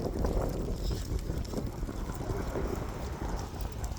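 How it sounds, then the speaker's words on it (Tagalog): Steady, loud wind roaring and buffeting the microphone throughout, a dense low rumble with no break. "Kusog sa hangin"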